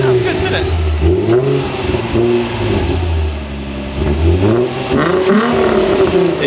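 A Nissan 350Z engine warms up close by, swinging through repeated revs that rise and fall over a rough idle, with people chatting nearby.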